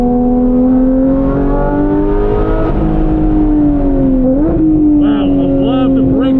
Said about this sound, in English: It's actually so loud because of the triple bypass that even with earplugs, it's distracting.